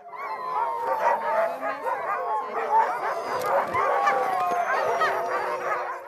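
A pack of sled dogs barks, yips and howls continuously. The many overlapping voices come from moderately close by.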